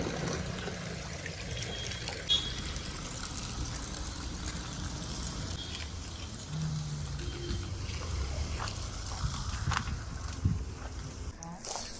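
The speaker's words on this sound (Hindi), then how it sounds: "अब ये भर लिया हमने नेचर से पानी।" Water from a natural source fills a container with a continuous low trickle and gurgle in an outdoor setting, faint and steady throughout, with a voice talking at times.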